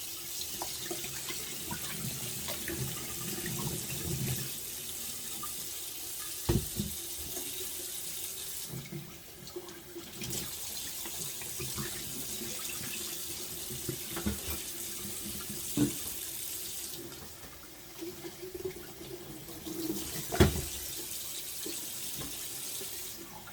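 Rose petals rinsed under a running tap, the water streaming steadily into a sink for a long stretch with brief pauses and occasional clinks of handling.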